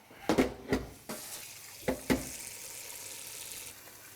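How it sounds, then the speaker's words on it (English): Water splashes into a cooking pot for a sweet potato and ginger soup, with a few short bursts of pouring, close and fairly loud, then quieter trickling and settling. "now we're just going to cover with some water"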